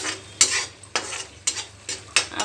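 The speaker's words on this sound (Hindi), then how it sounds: "अब इसको भी हम फ्राई करेंगे अच्छी तरह से लो फ्लेम पे।" Ground spices frying in a pan on a low flame while a spoon stirs them, five sharp scraping strokes at a steady pace over a soft sizzle, close by with no voices.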